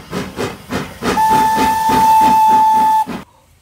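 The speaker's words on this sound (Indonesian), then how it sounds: "Wow, ada kereta api Thomas teman-teman." A Thomas toy steam train lets out a close, loud steam whistle: a steady shrill tone held about two seconds over rhythmic hissing puffs, then cut off abruptly.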